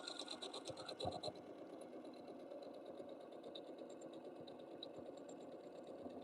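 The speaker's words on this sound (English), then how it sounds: "But I love my Janome machines for doing free motion." A Janome sewing machine runs steadily during free motion quilting, a quiet, even mechanical whir with faint rapid needle ticking throughout.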